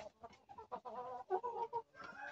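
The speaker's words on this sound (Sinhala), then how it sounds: "මේ වලට පේන්නේ මේ බිත්තර දාන මව සතු." Laying mother hens clucking inside a coop on a village chicken farm, a close, steady run of overlapping clucks and short calls with no talking.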